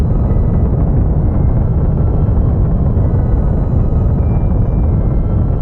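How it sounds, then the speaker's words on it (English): A rocket engine fires in Kerbal Space Program, a heavily muffled, constant low roar that stays loud and unbroken throughout, with no voices. "Very powerful engine."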